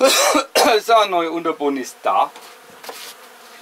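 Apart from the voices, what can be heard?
honeybees buzzing at a beehive during swarm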